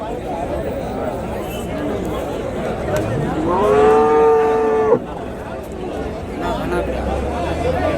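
A cow gives a long, loud moo with clear harmonics over a busy background of crowd chatter and murmuring voices at the Uthangarai cattle market.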